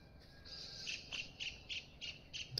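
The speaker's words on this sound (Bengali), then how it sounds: "অনেকগুলো পাখি কিচির মিচির করছে" Birds in a misty village on a winter morning repeat short, high chirps at a regular pace, about half a dozen faint calls over a quiet rural background.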